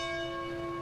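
A single memorial bell at a campus service for a fatal shooting rings with a sustained, clear metallic tone that hangs steadily and alone.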